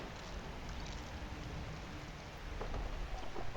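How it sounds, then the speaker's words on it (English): Steady rain falling in the video game Skyrim, a dense hiss of drops spread across the whole clip, growing slightly heavier near the end. "Oh, it's raining."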